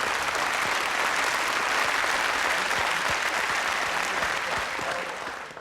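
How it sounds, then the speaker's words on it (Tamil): Men in an audience clap together, a dense, sustained burst of applause that stays loud and even before tapering slightly at the end. "ஆண்கள்லாம் கொஞ்சம் கைத்தட்டுங்களேன் சார்."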